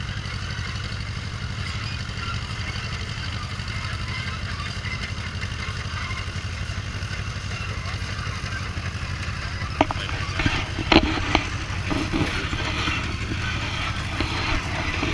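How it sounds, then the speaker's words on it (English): An unrestored antique Case military tractor made for the Army runs steadily at a parade with a low rumbling chug throughout, joined by a few brief clanks and rattles near the end. "This is a military case made by Case Manufacturing Company tractor that was made for the Army"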